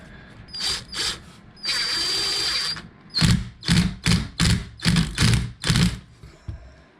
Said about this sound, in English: So we'll do another screw.